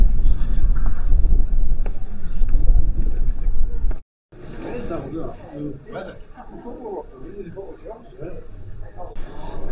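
Wind blows hard across the microphone on the Whitby coast in strong, rough gusts, drops out briefly near the middle, then returns more softly as a person talks over it.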